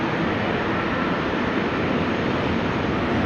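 A steady, broadband roar from a jet airliner departing a runway at Amsterdam Schiphol Airport on a rainy day, heard from a distance with a constant, unbroken rumble and no voices.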